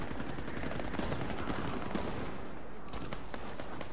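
Shots from a SIG Sauer 226 pistol at an outdoor range, a rapid run of sharp cracks packed closely together over a steady noisy background, then a brief pause before a couple more.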